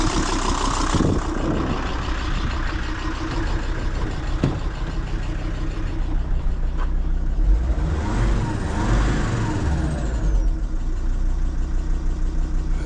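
A cold car engine that has not been driven for a while idles steadily outdoors, a loud continuous rumble with a faint knocking texture throughout.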